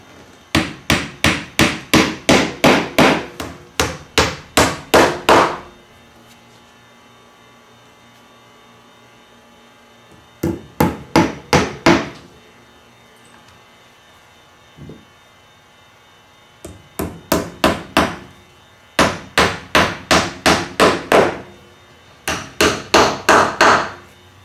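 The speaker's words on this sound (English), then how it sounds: "I drive these tacks on the corners down" A hammer drives upholstery tacks into a horse hair and leather chair. Sharp, rapid taps come in bursts of roughly six to ten strikes, separated by quiet pauses, and are heard close up and alone.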